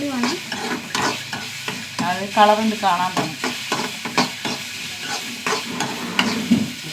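Egg being stir-fried in a pan with chili powder: steady scraping and stirring over a constant sizzle, close and moderately loud, with a person talking throughout.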